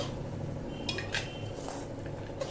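A spoon scrapes and clinks against a pot and bowl a few times as thick green chili and peanut thecha is scooped out, quiet and close.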